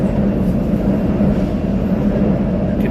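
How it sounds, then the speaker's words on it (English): Inside a moving train in Shenzhen, China: a steady low rumble and hum of the carriage, continuous and fairly loud, with no talking. "We're on the train at the moment"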